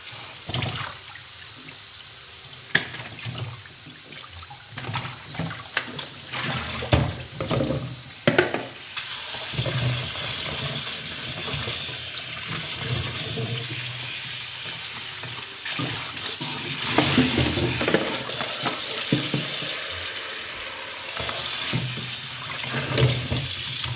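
Tap water runs steadily over fruit being washed for dessert in a home kitchen, a continuous hissing stream with splashes and handling sounds, fairly close, with no talk.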